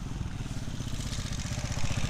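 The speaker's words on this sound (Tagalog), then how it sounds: "Pre, may motor pre." A motorcycle engine runs on a dike road used for hauling calamansi, a steady mid-pitched putter close by across the whole stretch, rising slightly in loudness near the end with no talk over it.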